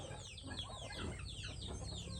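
Chickens cluck together just before an afternoon feeding at a rural farm, a dense, faint chorus of overlapping calls with no voices.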